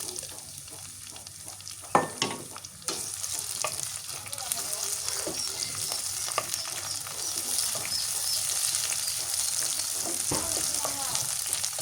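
Green chilies and onion frying in oil, a continuous bright sizzle with occasional sharp pops and scraping stirs, a couple of louder clatters early on, no speech.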